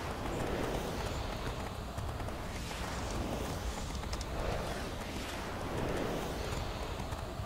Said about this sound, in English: horse or unicorn can run forever